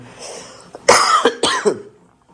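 A burst of several harsh, throaty coughs in quick succession, close and fairly loud, then quiet.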